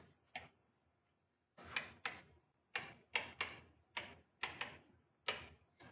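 A teacher writing out test instructions for a MAT 110 class, a series of sharp separate taps and scratchy strokes in quick irregular bursts, fairly close, with quiet gaps between and no talking.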